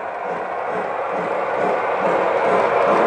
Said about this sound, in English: That's you running the train.